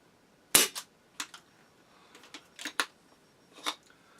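A Tokyo Marui M320A1 airsoft grenade launcher fires with a sharp, loud close pop, followed by a series of lighter mechanical clicks and clacks as the breech is opened and a shell is handled, no talking.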